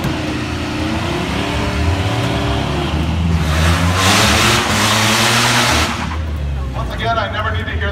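A cheap hooptie car at a zip tie drag race revs loudly and continuously up close, its engine pitch rising and falling across the clip.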